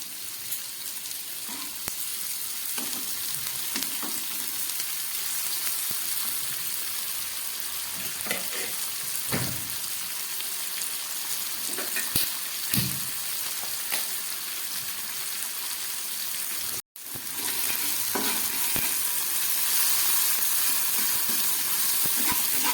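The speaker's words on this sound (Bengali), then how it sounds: "দিয়ে দিলাম টমেটো পেঁয়াজ আর টমেটোটাকে খুব ভালোভাবে আমি এবার ভেজে নেবো" Onion, tomato and green chilli fry in a pan with a continuous sizzle. Occasional stirring knocks and scrapes come through, and a brief dropout occurs partway before the frying resumes loudly.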